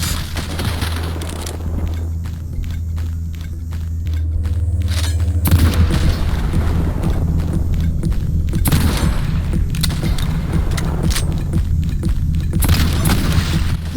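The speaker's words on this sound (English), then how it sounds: "Oh my god, and that shit did explode. Shit, so it was a timed grenade." A timed grenade goes off in the shooter Cultic in a deep booming blast, followed by rumbling and rapid bursts of gunfire that continue over the following seconds, loud and close.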